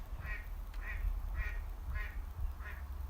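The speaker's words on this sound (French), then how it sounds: "On a un canard ici qui s'énerve." A duck quacks in five evenly spaced bursts, each a short run of harsh, agitated calls, fairly close over a steady low rumble of background noise.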